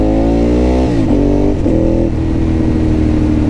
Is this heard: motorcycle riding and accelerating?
yes